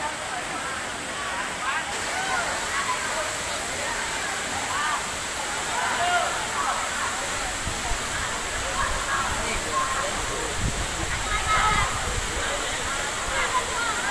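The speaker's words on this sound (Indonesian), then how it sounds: "kita akan mengunjungi Air Terjun Cari Jodoh." Air Terjun Cari Jodoh, a waterfall in Malino, gives a steady, loud rushing roar of falling water that fills the scene without pause.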